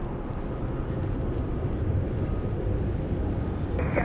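A Boeing 737-800 airliner departs Dallas Love Field with a steady, loud, broadband jet roar that holds evenly for several seconds, heard alone with no voices.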